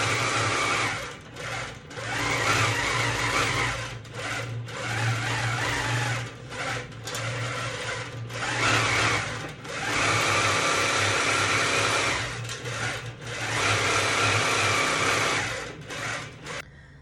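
A long arm quilting machine hums and whirs while stitching out a quilt, running in loud sustained bursts with short slowdowns and pauses between passes.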